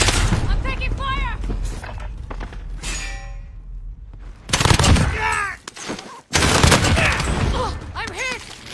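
Bursts of gunfire in Call of Duty Warzone, loud and close, cracking in rapid clusters with a short silent gap midway, mixed with game music and effects.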